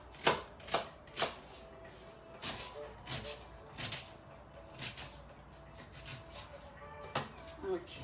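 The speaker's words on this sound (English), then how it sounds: "here is our medium-sized onion. Almost done chopping that up" A knife chops through a medium-sized onion on a board in sharp, irregular strikes, a few clustered quickly then spaced apart, close and moderately loud with quiet room tone between.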